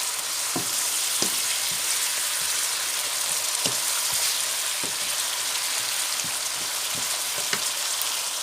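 Food simmering in a pan with a little added water cooking down, giving a steady broad sizzle with scattered pops and crackles throughout, close and even, with no voices.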